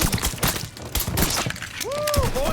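Gunfire in Mafia III: sharp repeated shots crack irregularly over a busy battle mix with shattering impacts, and a rising-falling whine near the end.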